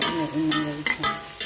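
Curry chicken with ginger is stirred in a frying pan, giving soft scraping and sizzling sounds that run steadily through the short moment, close and moderately loud with no talking.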